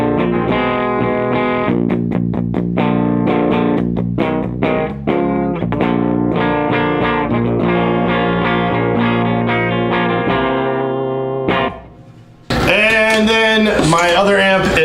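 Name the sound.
Epiphone Les Paul through Fender Hot Rod Deluxe amp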